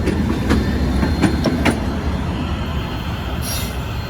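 A freight train climbs a hill, pulled by a road unit and a Geep, with a small MP15DC switcher pushing at the rear. Close, loud rumbling continues throughout, with clanking wheel impacts and a brief high squeal.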